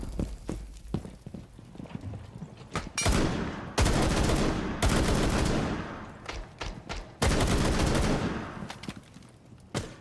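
Video game gunfire from an M12 SMG, heard as bursts of loud rapid shots in several separate volleys with short pauses between them, and no talking.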